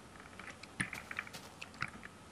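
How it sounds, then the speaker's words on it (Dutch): Soft, irregular clicks of typing on a computer keyboard, faint and close, in short uneven bursts with no talking. "Ik hoor je typen."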